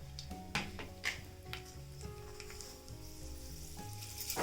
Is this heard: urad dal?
yes